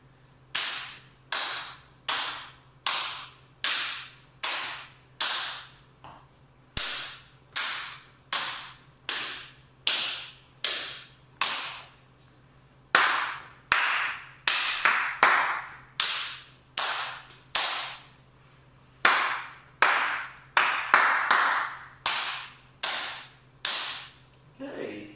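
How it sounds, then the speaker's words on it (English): Children in an online music lesson clapping a goodbye song, crisp individual claps in a steady rhythm, in groups of several with short pauses between phrases, close and clear with no singing or words. "this time with no humming, no words, just clapping"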